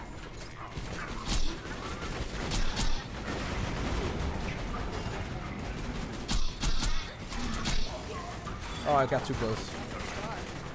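Bursts of gunfire and mechanical clatter from the video game Borderlands 2, scattered loud shots over a busy game mix while someone talks.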